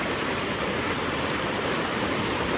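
Waterfall water pours steadily as a continuous broadband rush, even and unbroken throughout, with no talk.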